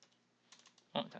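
A few soft key presses on a computer keyboard, faint taps followed by a louder cluster of clicks near the end, with a voice speaking softly beneath.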